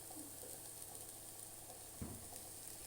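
Onion cooks with salt, coriander, chili, garam masala, pepper and turmeric powders in a pan while it is stirred. A faint, steady sizzle runs throughout, with one brief scrape of the spoon.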